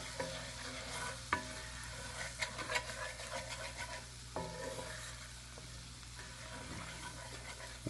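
Butter sizzling in a skillet with seared duck makes a steady, faint frying hiss, with a few soft clinks and scrapes from utensils on the pan over a low background hum.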